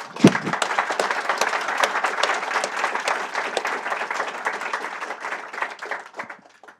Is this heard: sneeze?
no